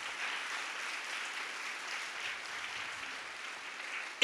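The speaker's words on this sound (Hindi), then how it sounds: "ताली बजाएगी इस बात के लिए।" A church congregation applauds during a fasting prayer service, a steady, even wash of clapping that runs alone and fairly soft for about four seconds, with no speech over it.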